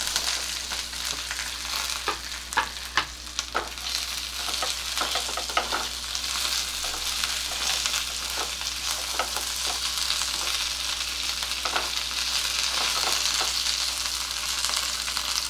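Chopped ridge gourd fries in a pan with a steady, close hiss of sizzling, broken by occasional scraping stir strokes, with no voices.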